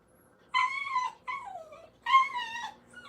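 A dog whimpering and yipping at a cat indoors, three high, wavering whines in quick succession, close and fairly clear against a quiet room.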